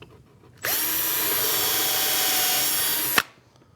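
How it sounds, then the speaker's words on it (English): A power drill bores pilot holes for screws in wood while a router table is being built, one loud steady whine lasting about two and a half seconds, close up, starting and stopping abruptly. "I need to do, and that's drill pilot holes for the screws"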